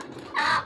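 A short bird call bursts in after a quiet moment, a single loud, harsh crow from a rooster, close by.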